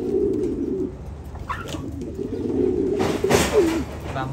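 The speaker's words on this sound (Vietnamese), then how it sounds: "Chim bồ câu này là dòng siêu thịt mà" Meat-breed pigeons coo steadily in low, throaty warbles, loud and close, with no speech over them.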